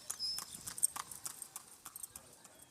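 Horse hooves clip-clop on a street in Cuba, a quick, uneven run of sharp close taps at moderate loudness with no voices.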